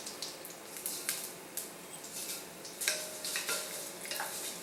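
Cumin seeds, added after mustard seeds, crackle and splatter in hot oil, a quiet bed of sizzle broken by bursts of sharp spitting pops at an uneven rhythm.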